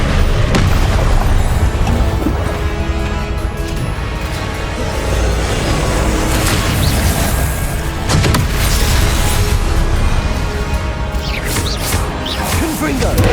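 Explosive spell blasts in a Harry Potter game on PS5, deep booms and crashing bursts with whooshes layered into a loud, constant wash of battle noise, with voices shouting over it.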